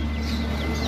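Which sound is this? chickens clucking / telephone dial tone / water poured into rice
chickens clucking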